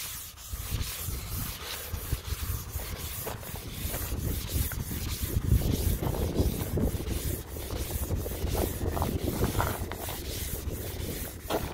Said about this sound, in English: So I'll wipe it down with this to get all the paint residue off that I sanded